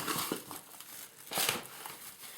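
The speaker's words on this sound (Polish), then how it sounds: "Na górę znowu folia" Plastic wrap laid over salmon for gravlax crinkles and rustles in a few close, uneven bursts, loudest near the middle, with no voices.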